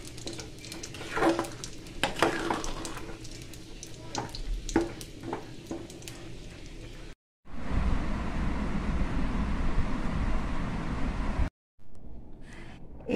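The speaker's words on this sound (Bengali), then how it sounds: "এই দেখো খিচুড়িটা সাঁতলাবো, আর এই দেখো হাঁড়িতে হচ্ছে সব সবজি দিয়ে।" Khichuri with mixed vegetables is stirred and sautéed in a pot, giving a steady close sizzle with scraping spoon knocks against the metal, followed by a louder continuous frying hiss, and no talk.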